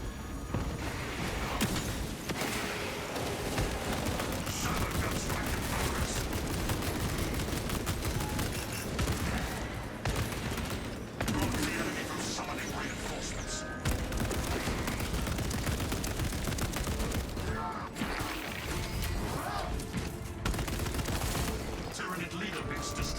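Space Marine 2 combat against Tyranids: dense, sustained gunfire mixed with grenade and Big Boomba explosions, loud and continuous for over twenty seconds, with a voice talking intermittently over the noise.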